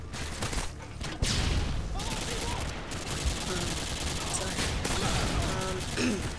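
UMP-45 submachine gun fire in a Call of Duty Modern Warfare 2 Team Deathmatch on the Scrapyard map, sustained rapid bursts running almost continuously with a voice talking over them.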